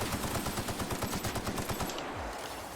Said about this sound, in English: we gotta use a shotgun on him